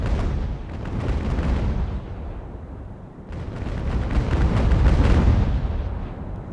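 Naval cannons fire grape shot in Ultimate Admiral: Age of Sail, two rolling, rumbling broadsides of overlapping booms, loud and sustained, separated by a brief lull.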